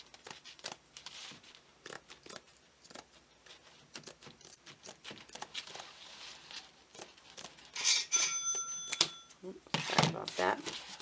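A short electronic phone tone chimes once partway through, over ongoing close scissor snips through canvas and rustling handling noise.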